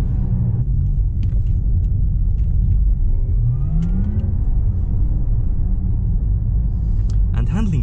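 A Porsche Taycan Turbo electric sports car rumbles loudly and steadily at full throttle out of a roundabout, rising in pitch as it accelerates hard, with a voice talking over it.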